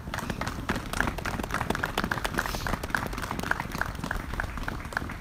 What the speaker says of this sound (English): Give yourselves some applause.